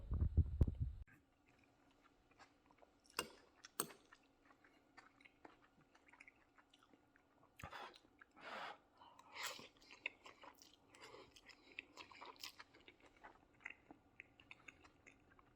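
Someone chewing instant jjajang noodles (Jjawang) close up, a brief loud bump at the start and then soft, wet, intermittent chews and smacks at low volume, with no talking.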